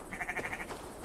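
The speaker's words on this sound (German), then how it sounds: "Hallo, ihr Schafe." A sheep in Assassin's Creed Valhalla gives a single short, wavering bleat, close and clear over quiet game ambience.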